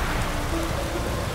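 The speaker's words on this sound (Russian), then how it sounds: "Так что пойду под дождем ночью." Steady hiss of rainfall at night in The Witcher 3 Next-Gen, soft and continuous, with a faint low hum underneath and no voices.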